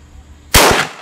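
A single loud .30-06 rifle shot fired at a target 50 yards away, a sudden sharp blast after near silence that rings out briefly and then decays.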